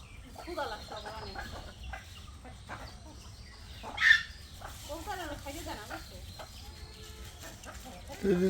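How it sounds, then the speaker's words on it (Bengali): Chickens cluck and squabble with pigeons over feed in a rural yard, with soft intermittent clucks and a sharp squawk midway, while people talk quietly nearby. "কবুতর আর মুরগি মারামারি করে খান নিয়ে"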